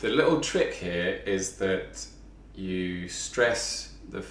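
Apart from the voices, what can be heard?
No distinct noise like a dog, phone or traffic.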